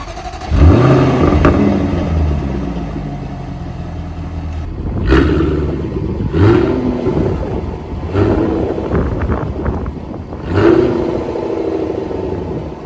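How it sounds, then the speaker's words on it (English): A 2024 Jaguar F-Type R75 P575's deep V8 engine idles with a rumble, then revs sharply several times, each rev climbing and falling back, loud and close. "You hear every bit of that V8."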